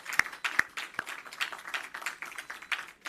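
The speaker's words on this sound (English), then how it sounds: "Can we give them a round of applause" A small gathering claps for donors at a handover of medical equipment in Jamaica, sparse sharp individual claps scattered over quieter patter, fairly faint and close.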